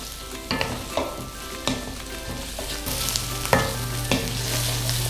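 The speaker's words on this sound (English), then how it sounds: "So we want the onion to just make it a little bit brown, but not too much" Onion browning in a hot pan for pasta bolognese, a continuous close sizzle punctuated by regular scrapes and taps of a utensil stirring about once a second, loud and without talking.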